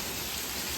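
Hail and heavy rain pound down during a severe thunderstorm, a dense, loud, continuous hiss and patter with no gaps.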